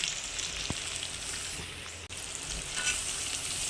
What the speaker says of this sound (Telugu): ఇప్పుడు ఫ్రై చేసుకోవాలి